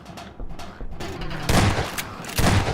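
Rapid bursts of gunfire in Half-Life 2's Ravenholm, loud and close, with heavier blasts clustered toward the end and brief gaps between volleys.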